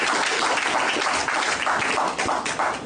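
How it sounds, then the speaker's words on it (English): An audience in St. Lucia gives a round of applause, a dense, steady wash of clapping at close range, loud and continuous with slight dips in intensity. "I think we should give her a round of applause for all what she's done for St."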